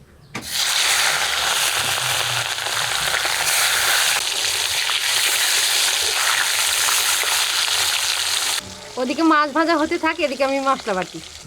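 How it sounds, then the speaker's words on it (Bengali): Rohu fish frying on a stove, a steady dense sizzle and crackle running for several seconds before stopping abruptly, followed by a short stretch of voice-like tonal sound. "এবার উনুন ধরিয়ে মাছ ভাজবো"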